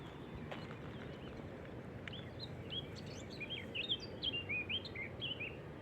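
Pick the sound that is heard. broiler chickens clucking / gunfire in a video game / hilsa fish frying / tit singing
tit singing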